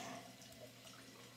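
Water runs from a sink faucet in a brief, faint, steady stream with a soft splashing hiss and no one speaking.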